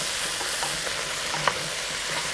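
Beets and carrots for beet borscht are stirred in a hot pot, a steady sizzling hiss with soft scraping and light clinks of the spoon.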